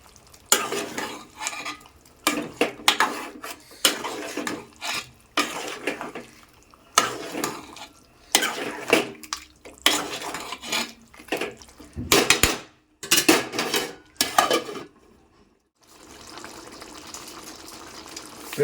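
A spoon stirs chicken curry in a pot, with repeated scraping and clanking strokes in bursts separated by short pauses, and a softer simmering bubble toward the end.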